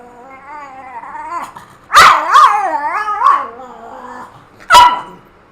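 A dog lets out several loud, close barks with whining, yelping tones, a cluster in the middle and one more sharp bark near the end, with no talking over it.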